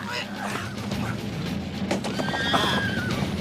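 A horse whinnies loudly up close amid hoof clatter and scuffling, with a sharp knock mid-clip and busy action around it.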